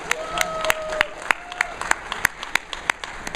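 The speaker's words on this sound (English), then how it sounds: "could we give him a big round of applause for all the hard work?" Crowd at a convention opening ceremony applauds in a large hall, a steady wash of clapping with sharp individual claps standing out, under a faint tonal hum.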